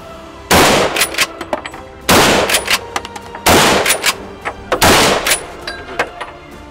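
Repeated gunshots at a shooting match, loud broadband blasts in groups roughly every one and a half seconds, each followed by ringing echo and smaller clatter, with no talk.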